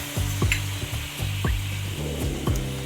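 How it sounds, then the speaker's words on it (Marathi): Two spoonfuls of water hit a hot frying pan, giving a loud, steady sizzle with repeated bursts and pops as it spreads, at close range with no talking. "आता पॅनमध्ये 2 चमचे पाणी टाकायचं आहे"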